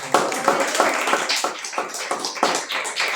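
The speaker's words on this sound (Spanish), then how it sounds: "Un aplauso" A church congregation bursts into applause at the end of a year-end sermon, loud close clapping that swells and ripples for a few seconds with no talk over it.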